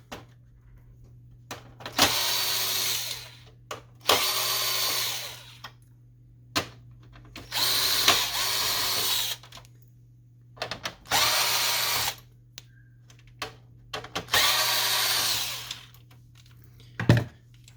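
A power screwdriver backs screws out of a Canon Pixma MX922 printer in five separate whirring bursts, each about a second or two long, with short quiet gaps between them and a small click near the end.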